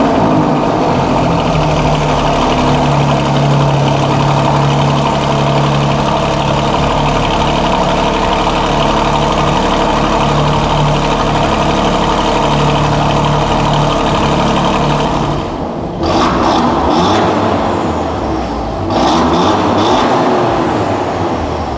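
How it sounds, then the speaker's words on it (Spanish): An Alfa Romeo Giulia engine on a cold start, a loud steady idle with deep rumble for many seconds, then sharper rev bursts near the end. "Vamos a escuchar cómo suena este Alfa en IRL, el mismo modelo."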